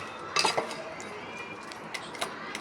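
Silver anklets dropped into a pot of boiling cleaning water give a few bright metallic clinks against the pot, set over a steady bubbling hiss, with a couple of softer chinks after.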